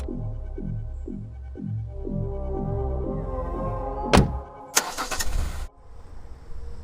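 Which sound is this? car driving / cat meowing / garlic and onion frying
car driving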